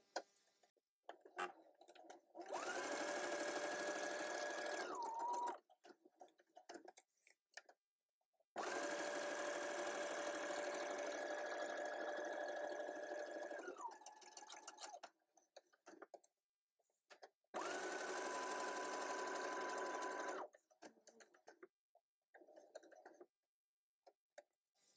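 A sewing machine runs a straight stitch through a paper pocket in three steady bursts of a few seconds each, with quiet pauses and small clicks between runs.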